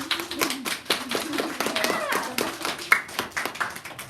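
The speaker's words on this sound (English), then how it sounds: "put your hands together and clap for us and applaud. Let's practice." A library concert audience practicing clapping, a brief round of moderately loud claps mixed with children's voices and adult talk in an indoor space.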